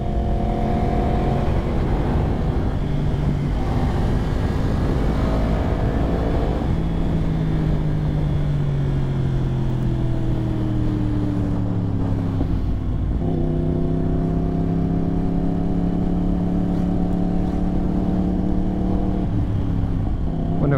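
A 2022 Yamaha R1 sportbike running a BrenTuning ECU flash tune is ridden hard, its engine note rising and falling steadily through gear changes. It sounds close and continuous for the whole stretch, with no talking over it.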